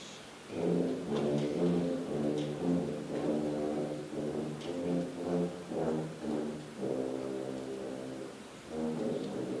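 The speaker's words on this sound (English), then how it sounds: "So here's the tubas." Tubas play at an elementary school concert, low sustained brass notes moving in a slow phrase with short pauses between, moderately loud in a quiet room.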